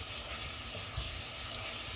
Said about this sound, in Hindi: अच्छी तरह अब हम इस मसाले की भुनाई करेंगे।